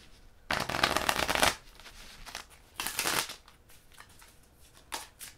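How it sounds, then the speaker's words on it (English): Two loud bursts of playing cards being shuffled, each a riffle lasting about a second, followed by softer card handling and a final short riffle. "So let's shuffle the card first."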